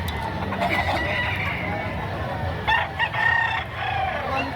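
Gamecocks and stags at a poultry market in Padre Garcia, Batangas, with roosters crowing and clucking against a busy murmuring background; people talk nearby.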